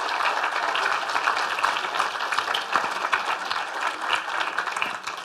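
A lecture hall audience gives a sustained round of clapping, a dense steady wash of applause lasting several seconds.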